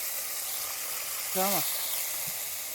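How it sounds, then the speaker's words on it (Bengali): Water poured into a hot pan of bata fish curry hisses into a steady broadband sizzle, close and fairly quiet, with a brief swelling burst midway and faint tonal sounds over it. "জল ঢেলে দিচ্ছি"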